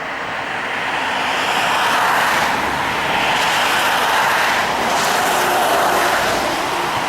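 Traffic on the A85 road in Scotland rushes past a roadside stop, a loud, sustained roar of passing cars swelling and fading over several seconds with no talk.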